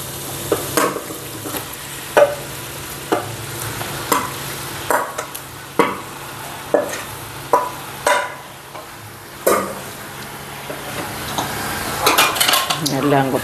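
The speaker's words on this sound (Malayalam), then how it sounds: "വരട്ടി വെച്ചേക്കുന്ന ബീഫ് ഇട്ട് കൊടുക്കാം" Turmeric-coated beef goes into a frying masala in a pan with a run of sharp metal spoon clinks and scrapes over a low sizzle, the strikes spaced every second or so and nearer toward the end.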